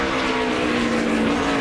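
NASCAR Cup cars, including Ryan Newman's No. 12 and Jeff Gordon's No. 24, race at the Infineon road course in 2006, a loud continuous engine drone with a steady high tone and no break.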